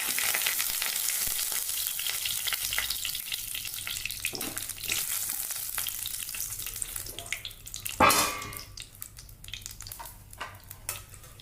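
Cloves, star anise and bay leaf heat in a pan on low flame, giving a steady soft sizzle and crackle with light scraping, then a sharper hiss near the end; no speech.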